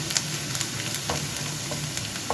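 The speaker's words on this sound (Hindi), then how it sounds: "बस लहसुन को फ्राई करने में 2 मिनट लगेंगे" Garlic frying in oil in a home kitchen, a steady close sizzle with a few light stirring clicks and scrapes across the short stretch, no voices.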